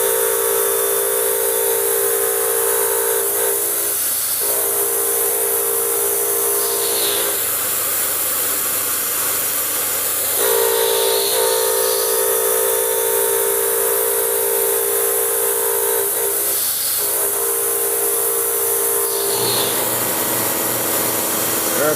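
An air compressor runs steadily in a machine workshop beside a Sanford MG surface grinder, a continuous loud hiss and hum with periodic bursts of air release recurring every few seconds throughout.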